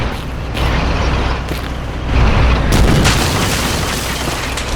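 A tank explodes in Battlefield 2: a loud, heavy booming rumble with crackling debris that swells and stays dense across several seconds.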